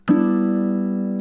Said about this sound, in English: I'm going to do a down strum on that.